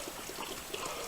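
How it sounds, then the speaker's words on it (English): Bottled water pours steadily into a crock pot, a soft, continuous trickling splash heard close and quiet for about a second with no talking. "I'm putting bottled water in here"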